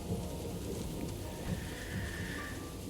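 Rain pours steadily in a Sherlock Holmes video game scene, with a low rolling rumble of thunder beneath the dense patter, quiet and continuous.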